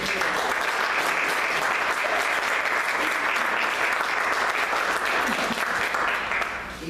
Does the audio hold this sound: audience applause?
yes